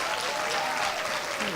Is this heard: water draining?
no